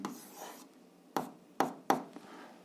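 Pen or chalk writing out a physics answer, a few soft scratching strokes with sharp tapping marks spaced irregularly, close and quiet.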